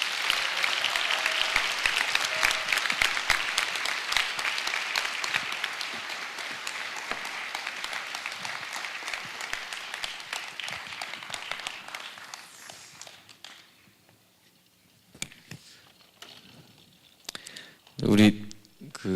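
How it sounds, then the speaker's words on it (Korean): A church congregation applauds to welcome visiting guests for praise and testimony, steady crowd clapping for about twelve seconds that gradually thins out, leaving near-quiet room sound with a few scattered claps and a brief louder rustle near the end. "우리 큰 박수로 사랑합니다, 축복합니다, 감사합니다 하는 뜻으로 박수로 맞이해 주시겠습니다."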